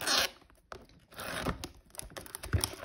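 A wrapper on a 2021-22 NBA Hoops Winter Edition basketball card blaster box is picked at and torn, giving close crinkling, scratching and tearing noises in short uneven bursts.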